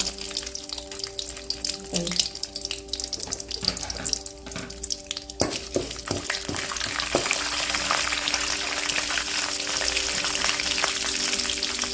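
Cashews frying in hot oil in a pan for coconut rice, a bright steady sizzle that swells louder in the second half, with a few clinks and stirs early on.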